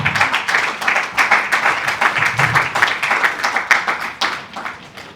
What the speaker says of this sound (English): A bit of a round of applause for her.